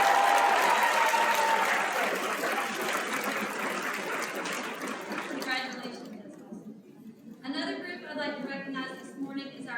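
An audience at the SCASL conference general session applauds honored Teachers of the Year, a dense, steady clapping that thins out toward the end as voices come through.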